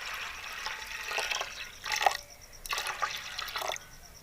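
Water poured into a pot of white lentils seasoned with salt, cumin and garam masala for a chicken daal mash, a steady splashing pour in bursts with brief pauses, close and fairly quiet.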